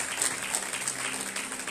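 A congregation at a Holy Ghost revival service in Atlantis, Bahamas claps steadily, a dense, continuous wash of many hands that holds at an even loudness throughout.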